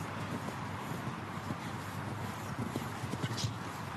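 Horse hooves thud softly across a show jumping course at the 2014 Nations Cup in St Gallen, under a broad wash of arena noise and a talking voice.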